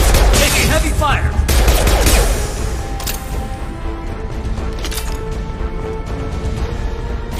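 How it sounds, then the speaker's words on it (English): Rapid bursts of gunfire crackle through a firefight in the video game Mass Effect 2, heaviest at first and then easing into scattered shots, with voices talking under the shooting. "Taking heavy fire."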